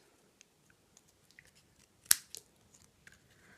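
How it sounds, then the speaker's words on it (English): Scissors trim small bits off black card pieces for a Harry Potter card, quiet close snips scattered across the moment with one sharper, louder cut near the middle. "So all I need to do is trim those bits off."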